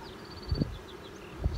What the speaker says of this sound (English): So we have bees working in the top box